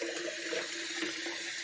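Tap water runs steadily over farm eggs being washed in a sink, a close, continuous splashing rush with no talking.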